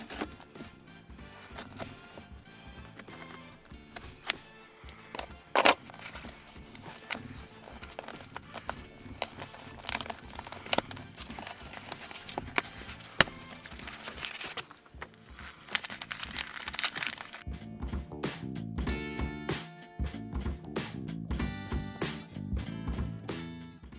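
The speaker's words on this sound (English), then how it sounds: "cutting the tape off of this flap is going to be the best" A knife cuts packing tape off a cardboard box flap. The cutting comes through as a quiet, uneven run of scratchy slicing, crinkling and tearing, with a few sharper snaps, close up and without speech.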